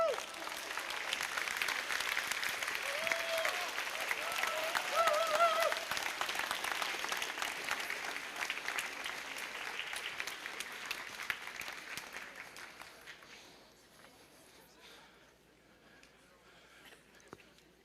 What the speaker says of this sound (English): just give ourselves a round of applause